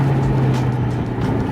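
A BMW 650 fitted with a VRSF sports exhaust drives along, its engine a steady low drone heard from inside the car, fairly loud and unbroken.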